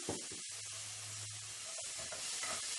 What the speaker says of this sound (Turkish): Etimizi kızdırdığımız tenceremizin içerisine alalım